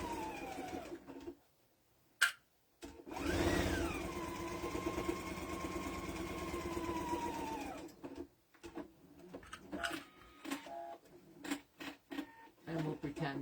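Sewing machine stitching up and down a Valentine's Day tea towel, a steady close mechanical whir that starts and stops in bursts, with a person talking between runs.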